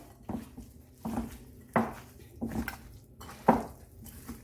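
Chicken wings being tossed by hand with olive oil in a bowl, giving several separate wet clattering knocks and squelches spaced about a second apart, close and moderately loud with no talking.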